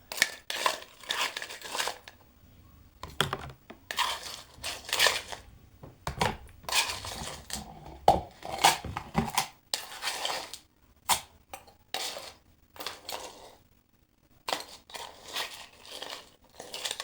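Ice cubes are spooned into an empty glass, making quiet, close clinks and rattles in short irregular clusters separated by brief silences.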